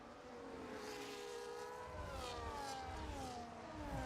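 Racing engines in a PC racing game at Silverstone reverse, a McLaren chasing a Red Bull: layered high-pitched engine whines rise and shift in pitch continuously, fairly faint and steady without talk.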